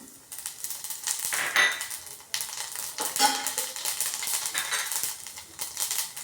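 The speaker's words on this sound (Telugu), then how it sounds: "అది వేడెక్కిన తర్వాత ఫస్ట్ జీలకర్ర వేస్తున్నాను" Cumin seeds sizzling and crackling in hot oil in a pan while cooking palak paneer, a steady close hiss with popping bursts and occasional scraping stirs of a utensil against the pan, no talking.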